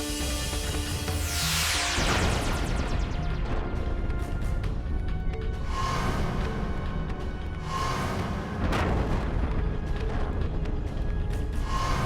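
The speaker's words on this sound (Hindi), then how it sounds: "ये विस्फोट कैसा?" In a dramatic mythological scene, a series of heavy booming blasts rolls over a dense, continuous rumble. Roughly three sweeping bursts hit a few seconds apart, each loud and close.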